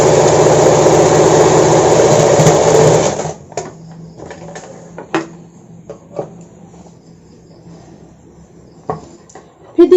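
A sewing machine runs steadily while stitching a blouse for about three seconds, then stops, leaving scattered clicks and handling noises.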